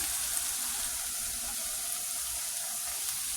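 Ground turmeric, salt, red chilli, cumin and coriander tipped into a hot pan of oil for a fish curry with potatoes and peas set off a steady, close hiss of frying that holds evenly throughout, with no voices.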